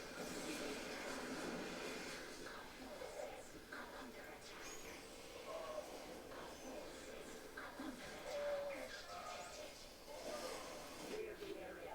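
A train rumbles along in the video game StarCraft 2, a steady rolling clatter with faint metallic squeals, heard quietly beneath in-game effects and talk.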